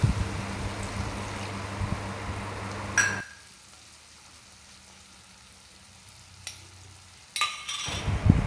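Tamarind juice poured into simmering tomato rasam with softened tomatoes, a steady close sizzle and bubbling that drops to a quiet simmer midway, with brief clinks near the start and end.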